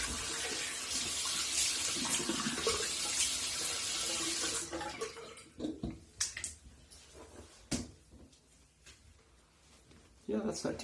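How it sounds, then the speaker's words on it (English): Tap water runs steadily into a bathroom sink as a Parker safety razor is rinsed, then stops, followed by scattered drips, clinks and handling sounds with someone speaking. "Let me throw a quick rinse on this"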